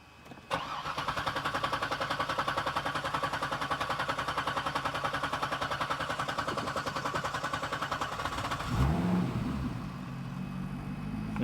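A Chevrolet Corvette engine with a lingering cylinder fault starts and settles into a steady, rhythmic idle with evenly pulsing firing beats, then briefly changes tone near the end, close and loud with no talk.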